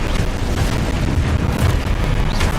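Explosive spell effects from the Hogwarts Legacy video game: a dense, continuous barrage of loud booming blasts and rumbling bursts, heavy and sustained throughout with no talk.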